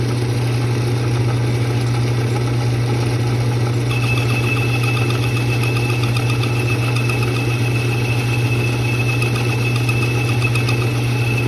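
A 1940s metal lathe runs steadily with a constant low motor hum and a faint whine that joins partway through, a continuous mechanical drone heard close up with no talking.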